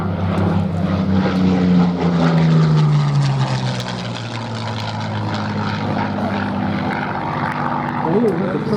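A Curtiss P-40 fitted with an Allison V1710 engine flies at an air show, its loud propeller-engine drone sweeping down in pitch as it passes, with a commentator talking over it throughout.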